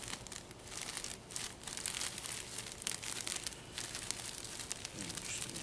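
A plastic bag crinkles and crackles steadily up close as it is sealed, folded, twisted tight and squeezed to push the air out, with no voices over the dense rustling.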